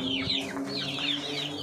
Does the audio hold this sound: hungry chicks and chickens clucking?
yes